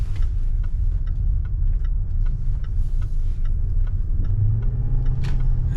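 Range Rover L405 engine running steadily while driving, a continuous low rumble and drone inside the cabin with light ticks over it, throttle response uneven after a throttle body swap.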